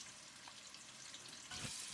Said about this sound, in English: Heat some oil in the pressure cooker and add the whole spices. Let them sizzle for 30 seconds